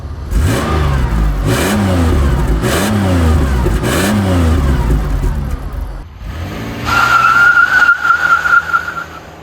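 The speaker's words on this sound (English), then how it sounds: "if your power steering pump is loud like this on your Buick Rendezvous" Loud power steering pump on a 2006 Buick Rendezvous: the engine revs up and down in several surges, then a steady, piercing whine holds close and loud over the running motor.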